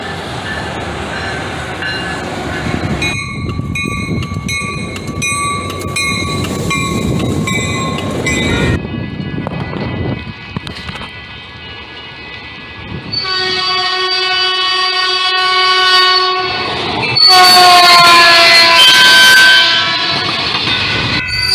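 Freight train in the Bay Area rolling past with clattering wheels, sounding several loud multi-tone horn blasts, the last ones strongest and near.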